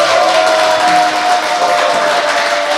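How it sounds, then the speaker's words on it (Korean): Studio audience at a Korean political talk show breaks into applause, a dense, loud, continuous wash of clapping that holds steady throughout without any speech. "대단한 일을 해낸 두 분에게 박수 부탁드립니다."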